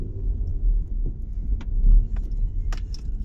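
A Ford Fiesta 1.25 reverses a short distance, its low engine rumble throbbing unevenly close by with a couple of louder swells, plus light clicks and small rattles, and no voices.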